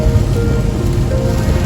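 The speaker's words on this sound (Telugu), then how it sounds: "11:50కి చెప్పాను కదా, 11:55కి మళ్ళీ ఈ లెవెల్ వర్షం." Heavy rain pouring down steadily, a dense, loud, unbroken hiss of drops hitting surfaces close by, with no voices.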